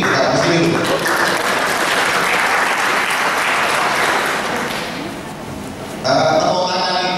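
Seminar audience at a national deradicalisation event applauding loudly and steadily for about six seconds, dense clapping dipping briefly before a renewed burst near the end.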